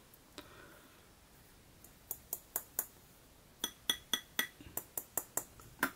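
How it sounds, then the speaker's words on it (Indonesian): A glass teapot tapped repeatedly, giving sharp bright clinks: a few scattered taps, then a quick run of about a dozen evenly spaced rings, close and clear over a quiet background. "Ini kaca ya, sepertinya kaca ini bunyinya"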